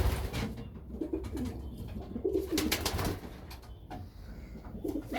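Racing pigeons coo steadily inside a loft, soft repeated throaty calls close by, with faint shuffling and a brief wing flutter in the background.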